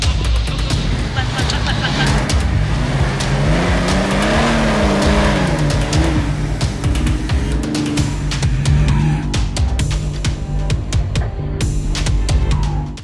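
A Triumph Tomcat race car lapping a track, its engine note rising and falling through gear changes with loud mechanical roar and a few sharp knocks, voices talking over it.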